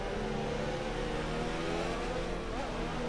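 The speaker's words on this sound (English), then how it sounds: "Not really braking into the first corner, more of engine braking." A Formula 1 car engine in a racing video game, on the final lap of the Chinese Grand Prix, drones steadily with shifting tonal whine as it engine-brakes into a corner, with a voice talking over it.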